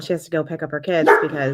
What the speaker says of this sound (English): I'm sorry if you can hear my dog in the background